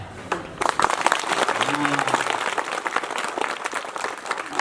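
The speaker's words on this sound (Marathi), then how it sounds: "व्याख्यानात टाळ्या अशा जोरात वाजल्या पाहिजे" Loud, steady applause from a lecture audience on Gudi Padwa, many hands clapping together close by without a break for several seconds.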